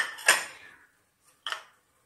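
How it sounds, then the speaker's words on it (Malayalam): Dry mixture snack, the crunchy fried savoury mix, tipped into a bowl in two short bursts: a rattling pour with a longer tail, then a brief second scatter of pieces landing in the dish. "ഈ പാത്രത്തിലോട്ട് മിച്ചർ ഇട്ട് കൊടുക്കണം"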